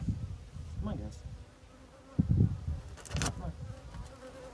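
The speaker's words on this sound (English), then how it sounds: "But these bees. They like that agua florida." Bees buzzing close by outdoors, drawn to agua florida cologne, with several droning passes that swell and fade over a few seconds, louder bursts near the middle and end.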